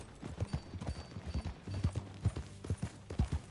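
Horse hooves clip-clop at a steady riding pace through Red Dead Redemption 2, close and fairly loud, with a low rumbling bed beneath the rhythmic beats.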